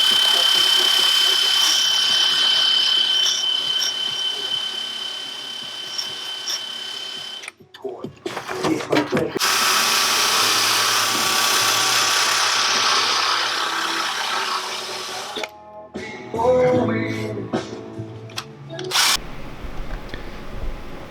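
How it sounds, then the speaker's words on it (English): A wire wheel on a power tool grinds seam sealer off a car body during an engine bay shave on a BMW E30 Touring, a loud sustained whine with pauses, revs and restarts, heard up close in a workshop. "So I'm gonna wire wheel all that out so I can weld that"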